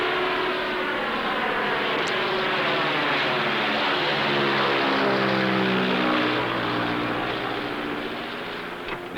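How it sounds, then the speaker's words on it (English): A World War I combat propeller plane's piston engine drones loudly and steadily, its pitch shifting as it passes, then fading slightly toward the end. "Both are actual combat planes of the First World War."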